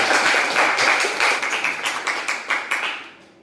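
A crowd claps in steady applause, dense and fairly loud, with individual claps becoming more distinct as it tapers off near the end.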